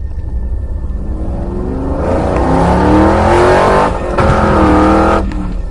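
Motorbike engine approaching in a cartoon, a loud rising motor roar that grows and swells as it draws near, with shifting engine tones and no speech over it.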